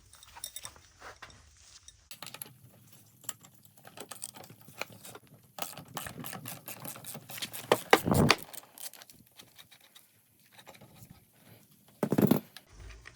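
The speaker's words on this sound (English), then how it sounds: "we're going to use an adjustable wrench" An adjustable wrench works the nut on a Razor E300 electric scooter wheel, giving quiet metallic clicks, ratcheting scrapes and a couple of louder clanks against soft handling noise, close and intermittent.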